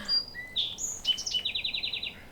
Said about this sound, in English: All the birds this morning.